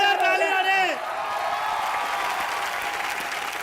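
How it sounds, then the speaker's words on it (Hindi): Studio audience on a Hindi comedy game show bursts into loud applause as a tonal musical sting fades out at the start, then clapping continues as a steady crowd roar with some whoops. "एक बार जोरदार ताली मारे"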